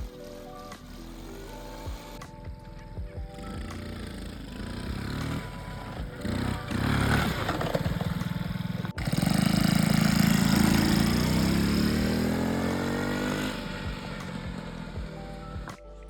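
A mobility scooter fitted with a swapped-in 90cc engine roars along as it is ridden, its mid-pitched engine rising and falling with throttle, loud and close with rough buzzing revs.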